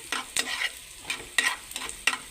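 Coriander and cumin seeds frying in oil, with rhythmic bursts of sizzling and scraping as the seeds are stirred, close and moderately loud.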